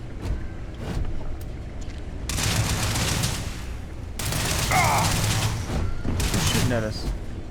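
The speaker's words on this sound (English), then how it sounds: "Who's shooting at us?" Gunfire from a firefight in the sci-fi video game Starfield, loud bursts of sustained shooting and impacts that come and go across the stretch, mixed with game effects, while a voice speaks over it.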